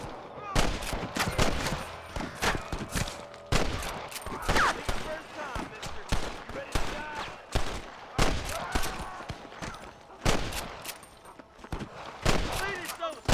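Dense video-game gunfire from Red Dead Redemption, with a rapid barrage of loud, overlapping shots and volleys that continues throughout. Voices and shouting come through between the bursts.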